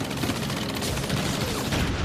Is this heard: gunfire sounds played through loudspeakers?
yes